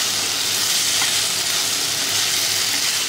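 Ginger and garlic frying in a pan make a loud, steady, close sizzle with a hissing crackle. It runs unbroken for about three seconds, with no voices.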